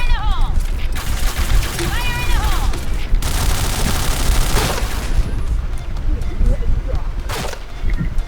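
Dense, loud gunfire rattles without a break through a shooter video game match. Bursts of automatic fire and heavier booms pile over each other, with a few brief whistling tones on top and no pauses.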